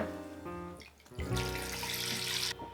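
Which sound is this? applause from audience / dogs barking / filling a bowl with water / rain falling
filling a bowl with water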